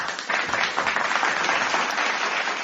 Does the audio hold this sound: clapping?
yes